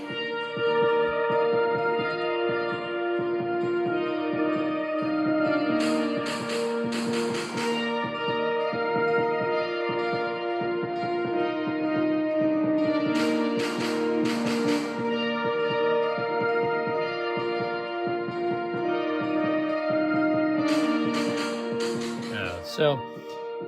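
Ethereal synth-style lead steps through a descending hook over sustained layered harmony, with bright shimmering bursts recurring every seven seconds or so, steady and loud with no talking.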